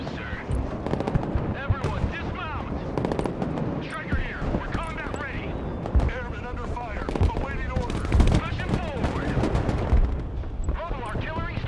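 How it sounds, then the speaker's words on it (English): Cluster artillery fire in the video game Broken Arrow on a snow map, with dense overlapping crackling blasts and rumbling impacts throughout, loud and continuous amid battle noise, with voices talking over it. "Artillery coming in there. It's some cluster artillery by the looks of things."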